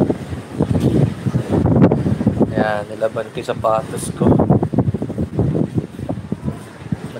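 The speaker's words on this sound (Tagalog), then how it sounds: "Grabe yung hangin. Nagwawala yung hangin" Strong wind from Typhoon Kong-rey in Taiwan buffets the microphone with a steady, loud roaring rush, heard under a person talking throughout.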